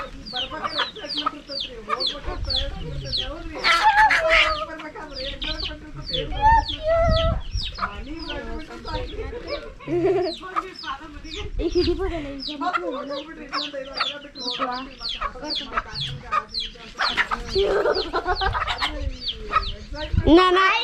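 A flock of chickens clucks and squawks continuously up close, busy overlapping calls filling the whole stretch, with people talking now and then among them.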